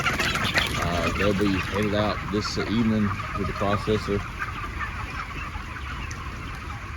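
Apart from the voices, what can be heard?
broiler chickens clucking in chicken house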